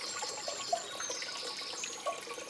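Water from a fountain in Paris splashing onto a low concrete surface, a steady bright spatter with a few louder drops standing out, heard alone with no voices.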